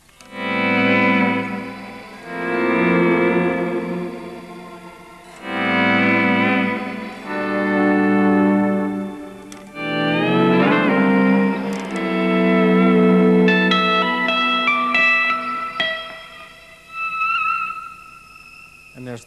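Guitar notes ring out in phrases, each followed by a shimmering reverb tail pitched an octave higher, swelling and fading between strums.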